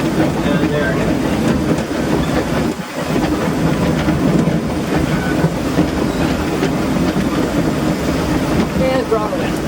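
Disneyland Railroad steam engine No. 1, the C.K. Holliday, runs under throttle, a loud close rumble of engine and rolling wheels with rhythmic rail clatter from inside the cab, continuous throughout with a brief dip early on.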